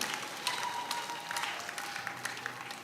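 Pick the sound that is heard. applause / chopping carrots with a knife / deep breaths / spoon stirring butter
applause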